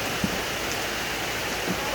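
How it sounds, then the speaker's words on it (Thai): Rain falls steadily in a rubber plantation, a dense even hiss of drops on leaves and ground with no pauses, moderately loud and close. "ก็ดูบรรยากาศฝนตกนะครับเนาะ"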